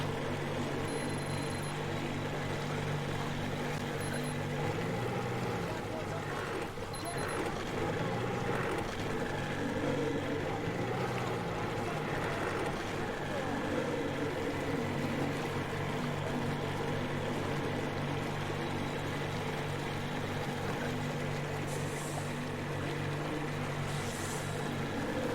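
A boat engine in the video game Metro Exodus drones steadily and loudly throughout, with a continuous motor rumble and faint higher tones, while the craft moves across water.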